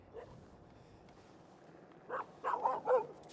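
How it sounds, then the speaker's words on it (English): A dog or puppy gives a few short, close barks and whimpering yips in quick succession, rising in loudness toward the end of a quiet outdoor scene. "look at all the puppies."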